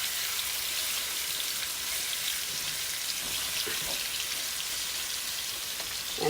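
A pork chop searing in a small pan gives off a continuous, close, hissing sizzle with faint pops scattered through it, steady in loudness and with no voices.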